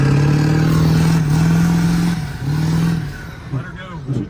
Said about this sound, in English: I didn't anticipate it being able to do donuts like this, but I mean, you get her first gear, and you just